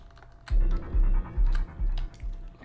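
Clicking of hand spiders in the video game The Bunny Graveyard: a run of five soft, thumping clicks at a steady, slightly uneven pace, close and fairly loud, with no talk over them.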